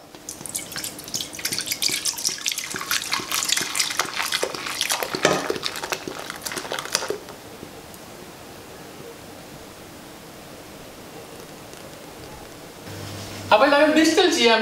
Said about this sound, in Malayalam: ഓപ്പൺ ചെയ്ത ശേഷം നമ്മുടെ ബിയർ ഇതിലേക്ക് ഒഴിക്കാം.